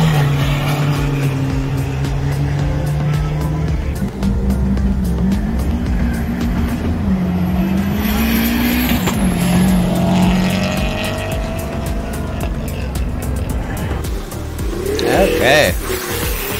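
Cars at a Wicked Wednesdays event at Rock Raceway give off a continuous loud engine roar. One engine revs up in pitch midway, and there is crowd and background noise throughout.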